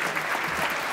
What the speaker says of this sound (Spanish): Estos aplausos compartidos para los músicos